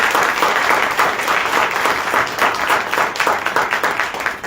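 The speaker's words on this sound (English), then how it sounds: "let's give our candidates a round of applause" A room of people applauds political candidates at a Dallas Monday Night Politics forum, a brisk, close, loud burst of many hands clapping at once, steady throughout.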